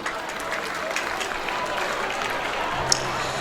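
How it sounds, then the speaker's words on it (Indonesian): An audience at an education event in Sorong applauds, a dense, steady wash of clapping that holds even throughout, with faint voices underneath. "Mari kita tepuk tangan"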